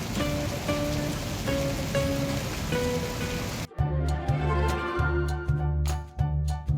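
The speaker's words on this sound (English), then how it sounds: "After sowing the seeds, a rain shower fell" A rain shower falls in a Peppa Pig cartoon garden after seeds are sown, a steady hiss of rain under light music, then a brighter patter of drops with a low rhythmic tone.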